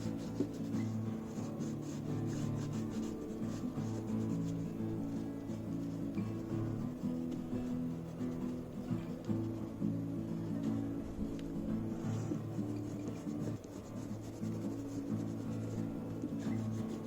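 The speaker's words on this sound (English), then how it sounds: "Again I am using white pencil color." A white colored pencil rubs steadily across paper in continuous soft scratchy strokes, close and quiet, with no talking.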